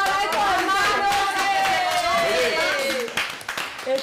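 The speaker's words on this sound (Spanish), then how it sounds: "¡Aplausos para estos hermanos!" Studio audience applauding the Rentería siblings Lili, Mauricio and Alejandro at a family evening show, a steady dense wash of clapping running the full length under music and a host's voice, thinning near the end.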